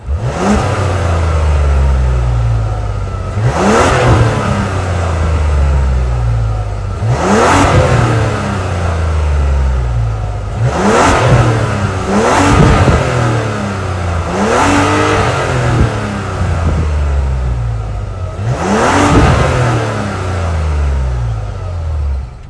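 A 2024 Mazda CX-90's 3.3-liter turbocharged inline-six engine revs repeatedly, each throttle blip rising sharply and falling back to a steady idle, loud and close with no talking.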